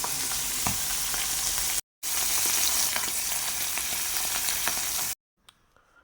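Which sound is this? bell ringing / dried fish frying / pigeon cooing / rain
dried fish frying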